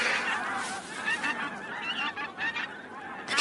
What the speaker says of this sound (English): The geese have spotted me.